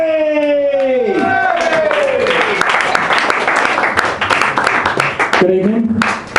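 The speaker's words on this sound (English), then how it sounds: "can you give a little bit of extra energy to your applause for the last act of this half?" Loud, dense applause and cheering from a comedy club audience greeting comedian James Cherry, steady and continuous throughout, with a host's voice over the start and again near the end.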